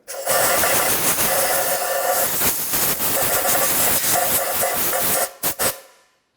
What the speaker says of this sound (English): little bit of compressed air.